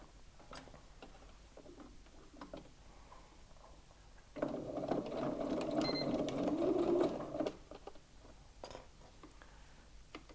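A sewing machine stitching a fabric bag runs in one steady, whirring burst of about three seconds, fairly close, between quiet handling sounds and with no talking.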